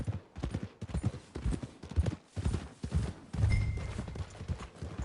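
Horse hooves clip-clop in Red Dead Redemption 2, a steady rhythmic series of close, moderately loud steps on the ground with brief talk at times.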